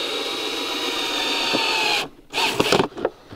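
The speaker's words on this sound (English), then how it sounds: "And then I'm going to screw it right to the tree." A power drill drives 2.5-inch screws through cedar into a tree, a loud close steady whine for two seconds, then a few short whirring bursts as the screw seats.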